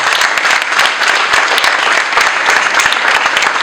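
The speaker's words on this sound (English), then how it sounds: "can we give them a round of applause?" Graduation audience in Nairobi applauding, a dense, steady wash of many hands clapping at close range, loud and sustained throughout with no talk over it.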